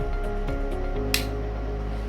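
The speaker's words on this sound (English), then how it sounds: "We just need to rotate the power button to the right until there will be a click sound like this." A Logitech speaker's rotary power knob is turned on and gives a single short, crisp click midway through, close by over a faint steady background hum.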